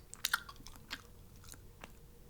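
Soft, close chewing of Trident gum, with a few brief wet crunchy bites and smacks near the start, then quieter intermittent mouth sounds, alone without talk.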